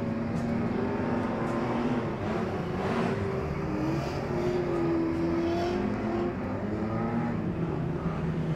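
Restored Classic Street Stock race cars circle a speedway at night, a steady near engine drone with shifting revs as cars chase each other, with no talk.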